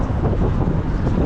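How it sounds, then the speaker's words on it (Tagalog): Strong wind on a cold winter walk in Canada buffets the microphone, a dense rushing roar filling the short clip with no pauses. "Lakas ng hangin mga par."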